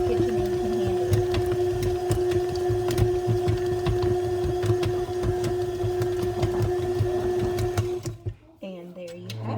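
A KitchenAid stand mixer churns cookie dough with chocolate chunks, its steady motor whine topped by rapid rhythmic clattering as the chunks knock around the bowl; a voice talks over it, and the motor stops near the end.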